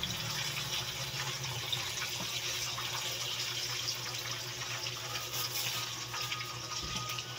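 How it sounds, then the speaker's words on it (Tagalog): Second-press coconut milk for laing pours into a pot, a steady close gushing liquid stream running without a break. "At isunod na natin itong ating gata."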